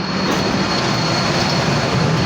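A driverless underground metro train rolls into the station, a loud, steady rumbling roar of wheels and motors that holds without a break, with no one speaking over it.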